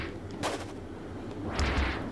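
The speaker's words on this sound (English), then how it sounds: "we're nearly done with endless explosions." Explosions in the video game Kirby: Triple Deluxe: two sharp, booming bursts about a second apart, loud and close, over a steady game soundtrack.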